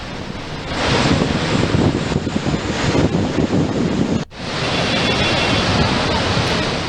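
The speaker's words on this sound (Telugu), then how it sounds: "26 క్రస్ట్ గేట్లు ఎత్తి నీటిని దిగువకు విడుదల చేశారు అధికారులు" Flood water roars out of the raised crest gates of the Nagarjuna Sagar dam as a dense, loud, continuous rushing with wind buffeting the microphone, briefly cut once and then resuming.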